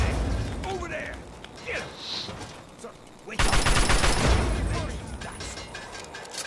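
Rapid assault rifle gunfire from the video game Fallout 3 erupts loud and dense partway through, a sustained burst of shots following quieter game sounds and voices.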